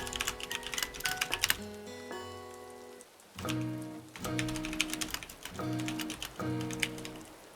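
Keys clatter in quick irregular bursts on a computer keyboard, close and steady, with short pauses between runs of typing, over a background of sustained musical tones.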